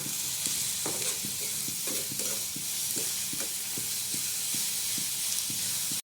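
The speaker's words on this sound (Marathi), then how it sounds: "कांदा लवकर भाजण्यासाठी मी थोडंसं मीठ भरभरवते." Chopped onions sizzle steadily in a hot pan after a little salt goes in, with a spatula scraping and stirring in a regular rhythm, close and continuous, and no talking.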